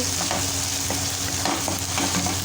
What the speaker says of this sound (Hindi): लहसुन अदरक को भी हम थोड़ा सा इसमें फ्राई कर लेंगे ताकि इसका कच्चापन दूर हो जाए।